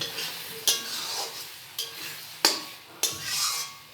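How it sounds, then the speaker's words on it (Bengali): Bengali lote fish curry with cumin and garam masala is stirred in a pan, a spoon scraping and knocking in irregular strokes over a soft sizzle, close and fairly quiet. "জিরে আর গরম মশলার গুঁড়ো একসঙ্গে দিয়ে একসাথে দিয়ে দেওয়া হলো নেড়ে নিয়ে নামিয়ে নিতে হবে"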